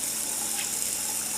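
Tap water pours steadily into a container to rinse whole green onions for kimchee, a continuous close hiss and gush without pauses.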